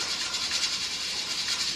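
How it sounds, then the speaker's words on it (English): A canner running in a busy home kitchen while processing taco soup gives off a continuous, even hiss, fairly loud and unbroken, with no talking over it. "You can hear a canner going behind me."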